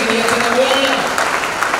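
A congregation at a Pentecost church service claps and cheers in praise to the Lord, a continuous loud burst of applause mixed with voices calling out.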